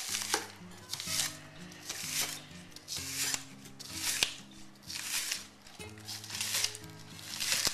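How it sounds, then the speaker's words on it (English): A knife slices green onions on the diagonal on a cutting board, a steady run of close, crisp cuts in a regular rhythm, with a low hum underneath. "And then we're going to slice up some green onions. Cut the tops off and cut them on the diagonal."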